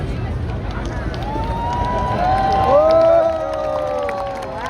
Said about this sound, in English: people are cheering because one of Tibet's longest time supporters, dedicated true friend Richard Gere, is here with us